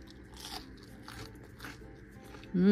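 Crunchy air-fried fish strips being bitten, giving a few close, crisp crunches at low level, with no talking and a louder thump right at the end.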